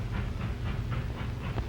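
A train running on rails in an old 1929 film, a steady rumbling roll with rhythmic clacking pulses and hiss, continuous and fairly close, with no one speaking.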